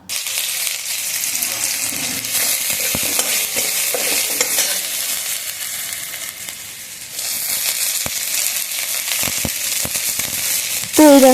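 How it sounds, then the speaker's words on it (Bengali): Crushed garlic hits hot mustard oil with a loud, steady, close hiss and crackle, dipping briefly and then swelling again as frying continues, with a few sharp pops toward the end. "রসুনগুলোকে একটু থেতো করে নিয়ে দেখো দিয়ে দিচ্ছি তেলের ওপরে"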